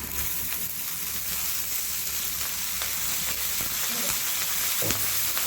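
Green chilies frying in oil in a pan for chicken kharda, a steady close sizzle and crackle with a few brief stirring knocks, no voices.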